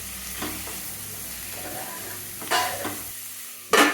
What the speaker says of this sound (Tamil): பூசணிக்காவை அதோட சேர்த்து நல்லா எண்ணெயில் நல்லா ஒரு பரட்டிட்டு